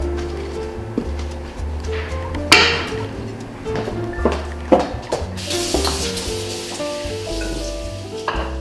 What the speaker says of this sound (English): goes into this pan, and I'm gonna be stirring, mixing until all the liquid comes out or disappears